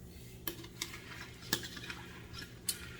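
Spoon clinking and scraping in a bowl while stirring a soap mixture, a few faint sharp taps over soft swishing, quiet and close.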